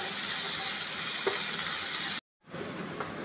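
Sliced onion with salt sizzles as it sautés in a pan, a steady close hiss and crackle that drops out briefly before resuming.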